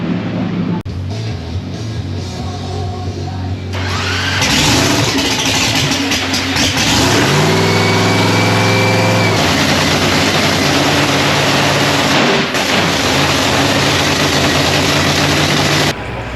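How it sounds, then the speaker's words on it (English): A heavy tow vehicle engine for a drag racing funny car starts up and roars loudly, then settles into a steady, rumbling idle that carries on close by. "So this is going to be the tow vehicle for the funny car today."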